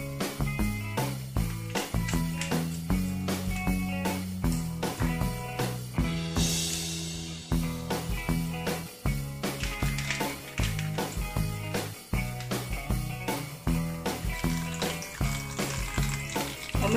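Tap water runs steadily over shirataki rice noodles being rinsed in a sink, a continuous splashing stream broken by clattering knocks and handling noises nearby, with no one talking.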